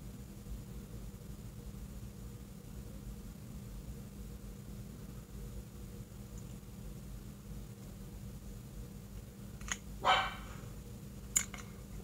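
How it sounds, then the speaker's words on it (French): A small pet dog yaps indoors, two short sharp barks near the end, the first slightly longer, after a long stretch of steady quiet background hiss. "si vous entendez mon chien japper, c'est normal"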